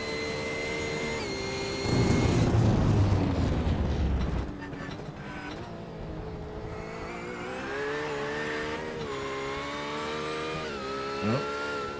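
GT3 race car engine in a racing game at Jerez, a loud full-throttle blast that surges then shifts into a steady high-revving drone with gear changes, under a commentator's voice.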